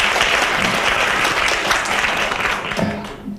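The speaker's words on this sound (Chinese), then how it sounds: "我们给他热烈的掌声" Warm applause fills a lecture hall at a political and economic outlook forum, dense steady clapping from a large audience that stays loud before tapering off near the end.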